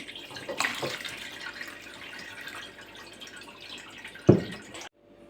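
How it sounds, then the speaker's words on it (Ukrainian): Homemade apple vinegar with its mother being poured out, a soft steady liquid trickle and splash close by, ending in a brief louder splash before falling quiet. "І тепер акуратненько виливаємо частину разом з цією маткою."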